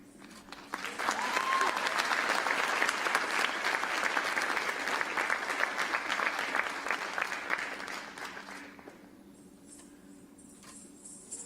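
Audience applause after a Bharatanatyam arangetram dance recital, a dense, steady wash of many hands clapping that swells in, holds loud for several seconds, then thins and fades toward the end.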